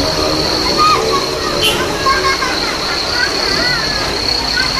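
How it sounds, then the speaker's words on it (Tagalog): Heavy rain falls over flooded streets where a motorcycle engine has stalled in knee-deep water, a dense constant hiss and splash with voices talking faintly throughout. "Lakas ang ulan."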